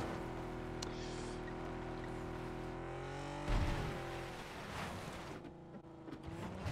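A car engine in the game PUBG holds a steady droning hum with stacked harmonic tones, briefly dipping and shifting pitch mid-drive before settling back into a continuous, even rumble.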